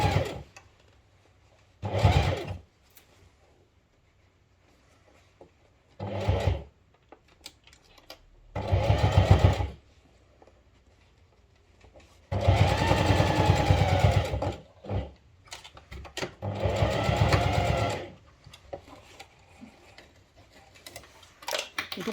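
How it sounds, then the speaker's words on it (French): A sewing machine runs a seam of about 1 cm along the corner of a fabric basket kit, in four separate bursts of a few seconds each with quiet pauses between them. No voice is heard. "on va donc faire une couture tout du long pour former l'angle de la corbeille"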